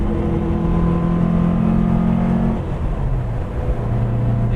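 A 1959 Porsche 356A Convertible D cruising in fourth gear, its engine droning steadily and loud with a sustained low hum that shifts pitch slightly partway through.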